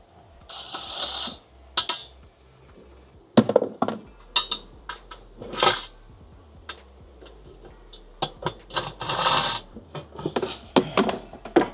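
Bolts coming off a BMW M5 transmission pan and the pan lowered, giving a run of sharp metallic clinks and taps with clattering bursts, close and fairly loud against a low steady hum.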